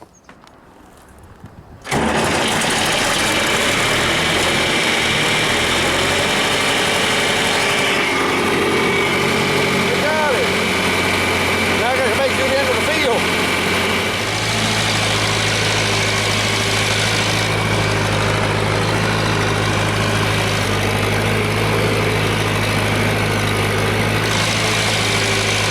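A worn-out John Deere 3020 diesel tractor cranks and fires after a short quiet moment, then settles into a loud, steady, rumbling idle that holds for the rest of the clip.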